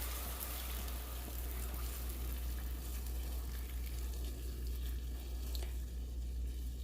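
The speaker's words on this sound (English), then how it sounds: "I'm adding 4 cups of heavy whipping cream." Heavy whipping cream is poured into melted butter in a pan, making a steady bubbling sizzle and liquid wash that runs continuously at close range over a low background hum.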